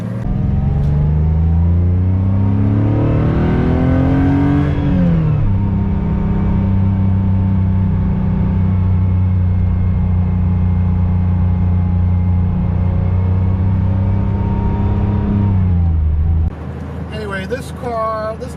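A 1989 Porsche Carrera 3.2 engine runs loud and close, revving up and settling into a steady idle for a long stretch, then cutting out abruptly near the end.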